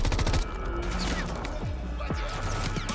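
Rapid video game gunfire from a co-streamed launch-night showcase: a dense run of sharp, loud shots in the opening half-second, followed by scattered impacts and mechanical clatter over a busy game soundscape.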